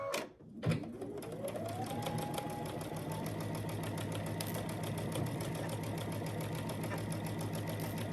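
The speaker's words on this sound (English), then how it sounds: "pin it, and then sew down this line" A sewing machine stitches down a quilt seam on half square triangle blocks, a fast steady mechanical whir running evenly after a brief start, close and loud with no talk.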